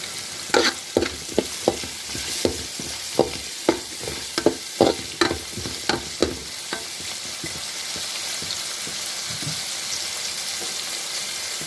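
Vegetables for cauliflower gobi fried rice stir-frying in a pan, a steady sizzle broken by a quick run of sharp spatula scrapes and knocks that fade out, leaving the sizzle alone near the end.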